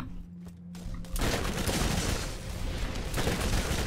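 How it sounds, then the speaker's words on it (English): Shots hit barrels in Borderlands, a sci-fi shooter; a sudden loud crackling fusillade erupts after a brief quiet moment and sustains as a dense roar of gunfire and explosions. "I'm shooting every barrel I see."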